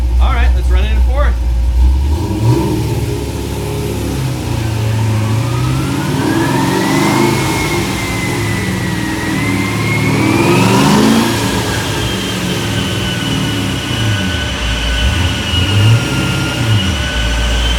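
A Corvette drift car's engine revs hard on a dynamometer in fourth gear, climbing in pitch through a long pull and then easing off. The loud, close drone rises and falls, and voices can be heard faintly underneath.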